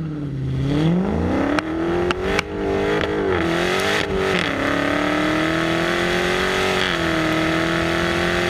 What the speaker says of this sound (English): put your foot all the way down on the brake, floor the gas pedal, and then hold on for dear life